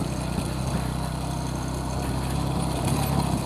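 A motorcycle engine labours steadily on a rough forest track near Talaga Bodas in Garut, a dense continuous drone with no letup, loud and close throughout.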